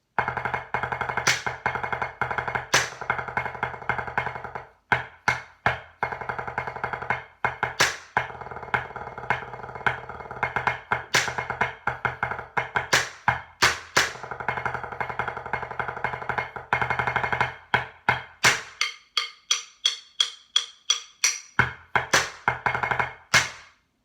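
The Blue Devils 2015 drum break plays as a solo run of sharp, rhythmic drum hits, dense and driving at first, then thinning into spaced, punchy strokes near the end.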